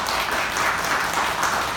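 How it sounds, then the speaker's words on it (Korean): A church congregation applauds to encourage a member: a brief, dense, steady burst of many hands clapping together, loud and unbroken. "여러분 응원의 박수 한번 부탁드리겠습니다."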